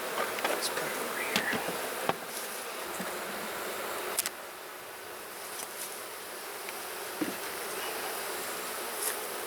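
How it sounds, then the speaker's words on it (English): Honeybees buzz around an open hive box, a dense steady drone close by, with occasional louder passes of individual bees near the listener and no talking. "so a good number of bees in this bottom box, for sure."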